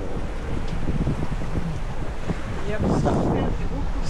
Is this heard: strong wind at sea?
yes